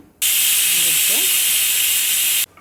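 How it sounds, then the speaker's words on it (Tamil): Wheat bread slices frying in hot oil give a steady, loud sizzling hiss that starts abruptly and holds evenly for about two seconds before cutting off, with faint voices murmuring underneath. "வீட் பிரெட் போட்டு நல்லா பொரிச்சுட்டுருக்கேன்"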